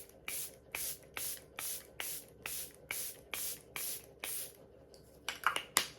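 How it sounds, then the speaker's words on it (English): One Size setting spray misted onto a face in about ten quick, evenly spaced hisses, close and crisp, with no talking. "I'm gonna need a little bit of that one size setting spray because I don't want my makeup to go anywhere"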